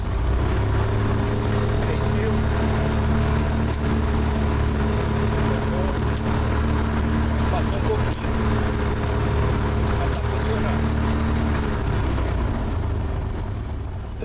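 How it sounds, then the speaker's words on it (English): A steady engine drone runs throughout with a low, even hum and constant loudness: a Rans S6 Coyote light aircraft's propeller engine running on the ground during engine checks nearby. "We run the engine ground checks."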